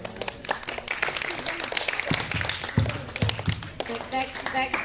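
A group at a school archery practice claps in counted rhythmic patterns, sharp hand claps in short sets under a leader's voice calling along.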